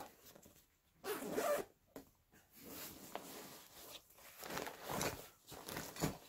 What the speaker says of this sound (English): They're easy to find, they're easy to grab onto and unzip.